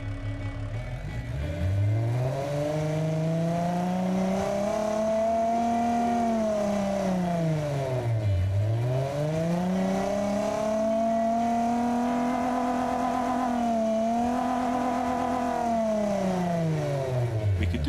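Simulated car engine in the Automation car design game revs up and down repeatedly, a steady harmonic drone rising and falling in pitch in long sweeping cycles, loud and continuous with no talking.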